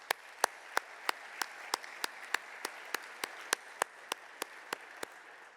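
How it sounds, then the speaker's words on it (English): Applause at an annual award dinner comes across as slow, evenly spaced single claps, sharp and close, about three per second, over a quiet room with no talk. "Please, let's give them a round of applause"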